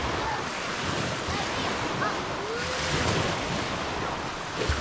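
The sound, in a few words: wind blowing at an island campsite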